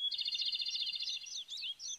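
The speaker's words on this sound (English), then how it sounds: "If there was a contest for the best chirping sound, I bet that bird would win it every time." A bird in a cartoon gives a quick run of bright, high chirps and trills, clear and fairly soft against a quiet background.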